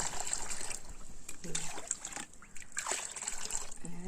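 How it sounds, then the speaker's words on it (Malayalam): Water poured into a container at home. A quiet trickle and splash comes in short, uneven bursts, close by. "അതിൻ്റെ കൂടെ നിറയെ വെള്ളം ചേർക്കും."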